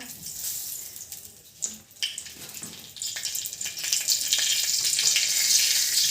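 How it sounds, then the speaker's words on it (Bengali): Bay leaf dropped into hot oil in a wok for tempering, giving a broad sizzle that swells and grows steadily louder and denser toward the end, with a few sharp clatters early on. "ফোরঙ্গে তেজপাতা"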